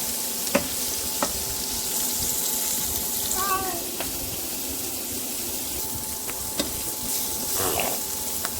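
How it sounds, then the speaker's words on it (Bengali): Prawns fry in a pan with turmeric and salt, a soft continuous sizzle broken by several sharp utensil taps and scraping stirs, no talking. "একটু হলুদ আর একটু লবণ দিয়ে চিংড়ি মাছগুলো আমি ভেজে নেব"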